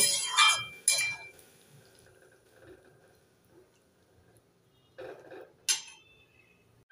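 Vegetables in a pot are stirred after warm water is added for a mixed vegetable dish, with a few sharp clinks of a spoon against the pot separated by quiet stretches and soft liquid sounds.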